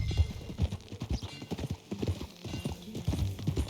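Horse hooves clip-clop steadily in Red Dead Redemption 2, a quick, close, even rhythm of heavy thuds on the ground, with a brief voice over them and a whinny-like touch near the start.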